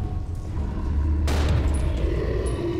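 A gunshot in the video game Resident Evil 0 HD Remaster, one sharp loud report around the middle followed by a booming tail, over steady low game ambience.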